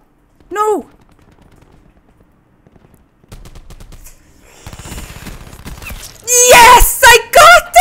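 Automatic-weapon gunfire from Black Ops 4 hip-firing: a brief quiet voice blip, sporadic sharp shots, then loud rapid bursts of machine-gun fire dominating the end, with game noise in between.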